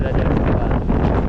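Loud typhoon gusts roar past moored boats tied with ropes, a thick, steady buffeting rush close to the microphone.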